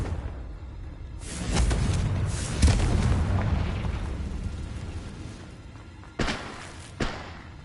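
Confringo explosive spell blasts in the Hogwarts Legacy video game: a deep rumbling boom that swells and lingers, then two sharp, separate impacts near the end, with no talking.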